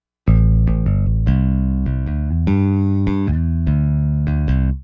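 A clean bass guitar plays a short melodic line through the Seismic Bass Amp Suite, with distinct plucked notes, a round low tone and a country-rock feel, heard alone and up close.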